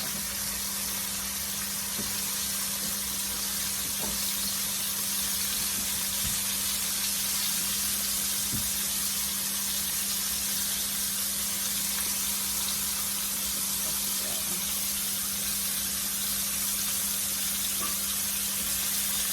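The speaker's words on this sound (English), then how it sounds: "you want to let them fry for at least about maybe 5 to 8 minutes per side" Pieces of food frying in hot grease in a pan, a steady broadband sizzle that holds continuously and evenly throughout with a faint low hum underneath and no talking.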